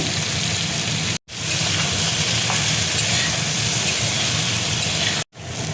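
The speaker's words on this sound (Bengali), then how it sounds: "ইঁচড়টা দেখো ভাজা হয়ে গেছে" Young jackfruit pieces frying in hot oil with salt and turmeric in a wok, a loud continuous close-up sizzle and hiss, briefly cut off twice.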